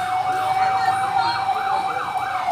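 A fire truck's wailing siren rises and falls in a steady repeating cycle, loud and fairly near, over a low traffic rumble, at a fire on F. Nicolas Street, Niugan, Malabon City.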